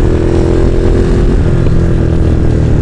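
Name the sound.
Ducati Monster motorcycle riding on race circuit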